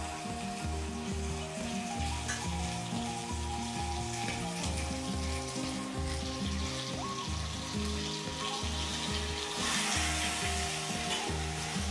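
Steady, loud sizzling and crackling of chicken frying in a hot pan for curry, with occasional stirring scrapes throughout and no talking.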